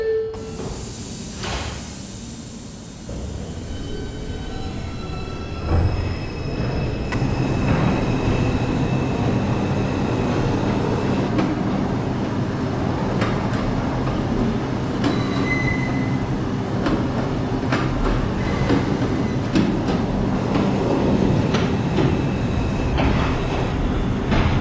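A New York City subway 4 local train rumbles along steadily from the inside, with wheels clacking over rail joints, brief squeals and a continuous heavy roar.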